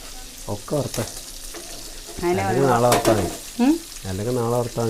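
Fish frying in a pan, a steady sizzle running under voices that talk over most of the stretch.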